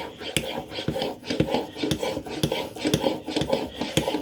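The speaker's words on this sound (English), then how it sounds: "I think I'm going to take a few more swipes." A woodworking blade is swiped back and forth across a sharpening stone in a steady run of about eight rhythmic rasping strokes, close and clear with no talk.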